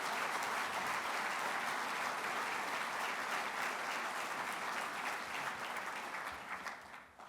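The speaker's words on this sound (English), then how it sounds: "Can we give him a big round of applause for that incredible work?" An audience at a conference gives sustained, dense applause that stays loud throughout before fading slightly at the end.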